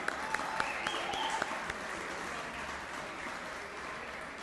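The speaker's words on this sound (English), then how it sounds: "Let's give a round of applause for the good band." Audience applause for a band at a Wayne State University Hall of Fame induction ceremony, a steady wash of clapping that holds for several seconds with a few sharper claps near the start, at moderate level.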